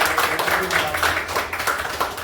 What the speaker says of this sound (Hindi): एक जोरदार ताली होनी चाहिए।